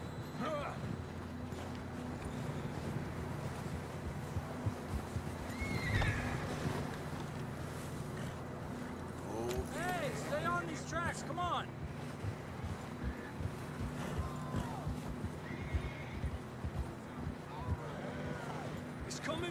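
Horses in the video game Red Dead Redemption 2 whinny and neigh over rhythmic clip-clopping hooves, with wind blowing in the background and characters talking throughout.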